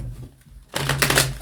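Tarot cards are riffled and shuffled in a quick burst of papery flutters and snaps, close and fairly loud after a quieter moment.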